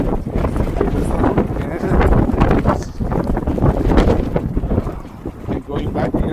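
Strong wind roars across a downtown Montreal rooftop during a March snowstorm, loud and continuous with buffeting gusts on the microphone.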